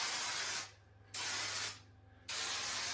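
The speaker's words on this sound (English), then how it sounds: "Oh, that is a huge spray pattern" A turbo aerosol spray can sprays paint in three long hissing bursts separated by short pauses, close and loud, with a wide spray pattern and a faint steady hum underneath.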